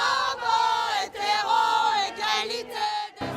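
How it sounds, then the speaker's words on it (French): A crowd of demonstrators at a rally on Place Baudoyer in Paris shouts and chants in a continuous roar of many voices, swelling and dipping in waves, close and loud, with a brief lull near the end. "Place Baudoyer, une foule s'est réunie pour manifester son soutien à la nouvelle loi."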